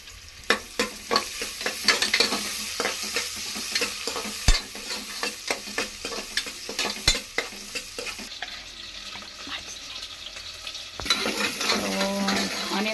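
Onion frying in oil and ghee for bisi bele bath, a steady loud sizzle with repeated sharp clinks and scrapes of a stirring spoon against the pan, alone without talk.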